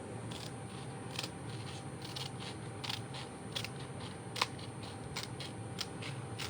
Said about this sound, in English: I'm just going to come in here with my scissors.